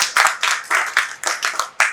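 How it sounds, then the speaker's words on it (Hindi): Audience clapping along in rhythm to a Bihari folk song, about eight sharp claps in a steady beat, loud and close with no voices over them. "आप सब ताली बजाएंगे"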